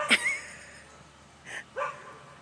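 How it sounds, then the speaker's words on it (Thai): A dog gives a few faint, distant barks and yips: one at the start and two more about a second later, over quiet rural background noise. "หมามันเห่าคอย หมามันเห่าคอย"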